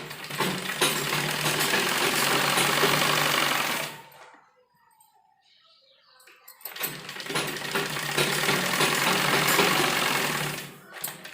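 A sewing machine stitching a newborn baby's dress runs steadily and close for about four seconds, stops briefly, then whirs on again for several more seconds before stopping.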